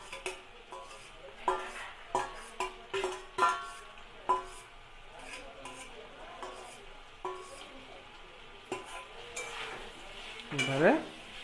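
Pointed gourd, potato and Gobindobhog rice being mixed in a hot pan, a spoon knocking and scraping in irregular strokes over a faint sizzle, close, with a louder scrape near the end.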